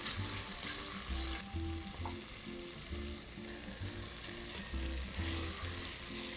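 Sliced mushrooms fry in a pan with a steady, quiet sizzle, broken by rhythmic scraping and stirring strokes, close by with no talk.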